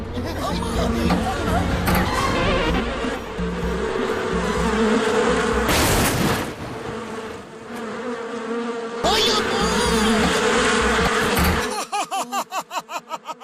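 Giant cartoon mosquitoes in Motu Patlu drone with a loud, continuous insect buzz, with busy background chatter and noise under it and a rapid pulsing whine at the end.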